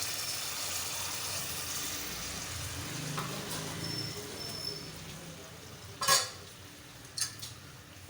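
Onions cooking in a pan with a little water added, a low steady sizzle and bubbling under soft clatter of utensils, with a couple of sharper scrapes or knocks near the end.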